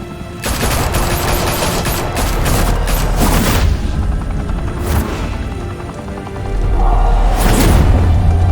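Gunfire in Batman: The Telltale Series: loud, close bursts of rapid automatic shots and heavy booms in dense volleys, with deep thuds and a swelling low rumble near the end.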